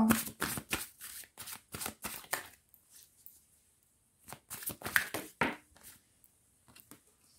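Tarot cards are shuffled close by in quick riffling bursts, several clustered rapid flutters separated by short pauses, crisp and papery against a quiet background.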